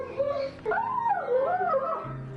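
A German Shepherd whimpers and yips in rising and falling whines, loud and close, greeting its owner on his return home after a long absence.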